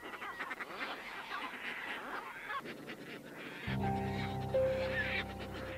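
A Caspian tern colony in the Selenga delta, with harsh, raspy calls from many birds overlapping at a distance, a steady background din that grows a little louder toward the end.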